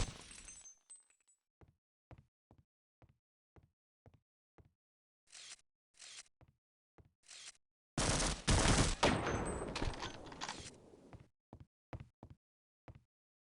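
Gunfire in Half-Life: Opposing Force, a long run of separate sharp shots spaced under a second apart, with a loud sustained crashing burst in the middle before the single shots resume.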